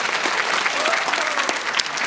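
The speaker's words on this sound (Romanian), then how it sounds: "Mai aplaudați-vă." Dense, steady applause from a crowd, loud and continuous throughout, with a few sharper individual claps poking through.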